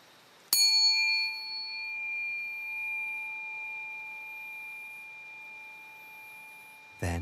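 A single bell strike sounds once, marking a short break in a session in Japan or Korea, then rings on as a long, steady tone that slowly fades in an otherwise quiet room.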